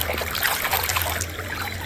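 Water trickles and splashes steadily while toy cars are washed, a close, continuous running stream with no pauses across the whole moment.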